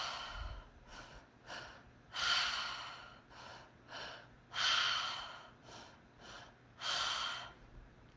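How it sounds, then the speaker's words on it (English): Breathwork breathing in a steady cycle of two quick inhales followed by an exhale, repeated several times, close and soft, with sharp airy gasps alternating with longer breaths and no speech. "It's like two inhales and an exhale"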